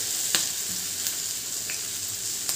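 Poha snacks shallow frying in oil in a pan, a steady close sizzle and crackle with a few sharp pops and light utensil taps, no voices.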